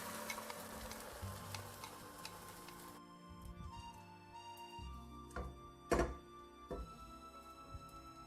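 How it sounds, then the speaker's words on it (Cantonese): A thin egg sheet fries in a pan, beaten egg mixed with a little pepper, cornstarch slurry and oil, giving a steady close sizzle with a few soft thunks of the pan or utensil partway through. "我哋煎一個蛋皮，"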